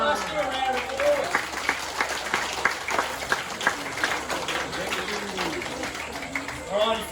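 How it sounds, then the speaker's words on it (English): An audience applauds at a crocodile show, with sustained clapping from a crowd and voices talking over it. "let's do a round of applause"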